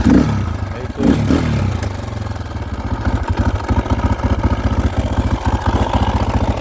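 Motorcycle engine idling with a steady low, rapid chuffing pulse, close by, after a brief rev at the start; no speech.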